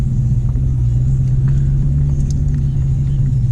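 Dodge Challenger with a manual transmission driving through a stop sign, its engine giving a loud, steady low rumble from inside the cabin with no clear revving, heard alone without talk.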